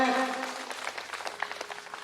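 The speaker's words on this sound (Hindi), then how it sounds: "जोरदार ताली से इनका स्वागत करें" Applause welcoming guests at a Shakti Kalash Poojan event in Jamui: scattered clapping from a crowd, fairly soft and a little uneven, following a short burst of amplified voice at the start.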